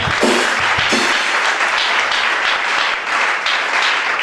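A church congregation claps and applauds loudly and continuously at close range, with no talk over it.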